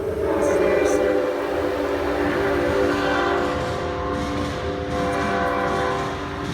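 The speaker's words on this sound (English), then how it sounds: "Train going by." A train passes steadily close by near a small-town classroom setting in Parma, Michigan, its sustained rumble and rolling rail noise loud and continuous for the whole stretch, with tonal horn-like bands holding underneath.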